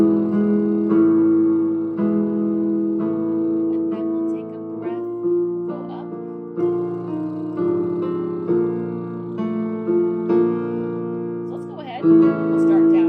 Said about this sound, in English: The piano is going to sound like this.